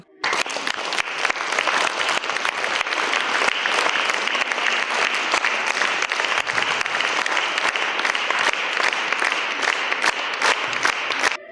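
Audience in a concert hall in Kolomyia applauding a children's choir on stage, long dense sustained applause with sharp individual claps, steady and loud for over ten seconds.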